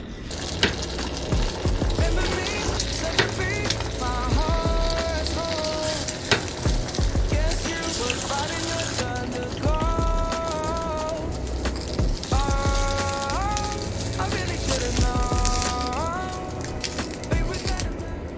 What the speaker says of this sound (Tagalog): mag-fry tayo ng egg kasi pang ready na to for mga almusal namin guys